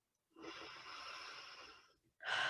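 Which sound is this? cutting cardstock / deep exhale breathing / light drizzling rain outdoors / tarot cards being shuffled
deep exhale breathing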